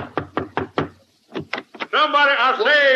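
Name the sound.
knocking on a door, radio sound effect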